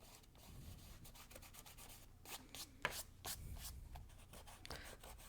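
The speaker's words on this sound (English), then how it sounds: "You could just use your fingers and you could rub it off." Fingers rub dried masking fluid off watercolor paper in a series of soft, close, irregular scratchy strokes, faint and without talk.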